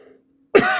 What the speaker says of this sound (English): I'm sorry, I got a bit of cough.